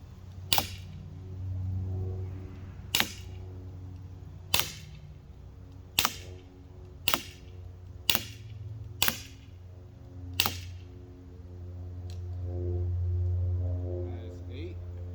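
Umarex SA10 air pistol fired at a target 10 yards away, eight sharp cracking shots at irregular intervals over a steady low hum, each crisp and close.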